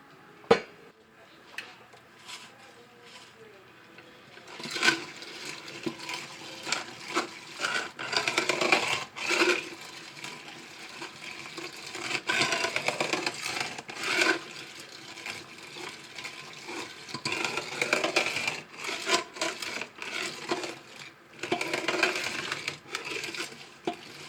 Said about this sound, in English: we're going to take it and run it through our food mill, and that is going to press out the seeds and the skins